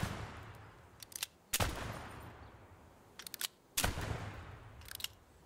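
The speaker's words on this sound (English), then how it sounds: "Looks like there's bottles over here we can shoot." Gunshots fired at bottles in the Gunsmith Simulator video game: two loud, sharp reports about two seconds apart, each preceded by small clicks of handling, over a steady low background hum.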